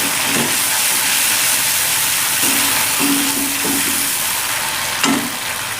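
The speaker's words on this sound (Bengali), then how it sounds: "এবার একটু ভালো করে নাড়িয়ে চাড়িয়ে নেবো।" Loud, steady sizzle and hiss as mustard paste and water are stirred in hot oil for a spicy flat bean curry, with a few soft scraping strokes and no talking.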